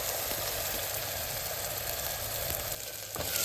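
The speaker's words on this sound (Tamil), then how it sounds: "இந்த மசாலாவை வந்து நல்லா உள்ளே சேர்த்துடலாம். நல்லா சேர்த்துட்டு நல்லா கிளறி விட்டுடலாம்." Masala fries in oil in a pan for protein-rich karamani sadam, making a dense, steady, near sizzle with faint stirring scrapes and no voices.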